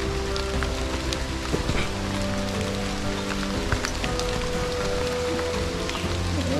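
Steady rain falls on a muddy path during a car trip through the Western Ghats near Agumbe, a dense, continuous patter of drops close by with no talking.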